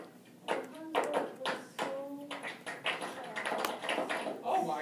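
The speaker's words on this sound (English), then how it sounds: "I'm going to clap it quiet." Hand claps in a classroom, a set of sharp, close claps in an uneven rhythmic pattern mixed with speech and soft murmuring from people nearby.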